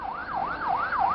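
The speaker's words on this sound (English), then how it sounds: "Ambulances ferried casualties to several hospitals as security forces blocked roads and searched vehicles." An ambulance siren wails in a smooth rising and falling sweep, cycling about three times, loud and close with no talk over it.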